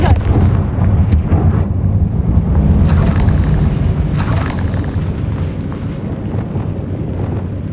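A Confringo fire spell explodes in Hogwarts Legacy inside a dark relic catacomb, a loud booming blast with rumbling bursts and crackle that rolls on over a heavy, continuous game soundscape.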